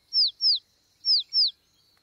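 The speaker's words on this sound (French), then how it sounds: "Il ne fait pas cuicui assez fort." A baby bird in a cartoon chirping, two pairs of quick, high, clear downward tweets with a short pause between the pairs, bright and near.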